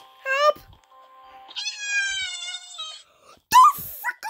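Cartoonish cat meows from a character in the Roblox game Piggy: two drawn-out, wavering cries and a short, sharp mew at the end, loud and close, with no talking.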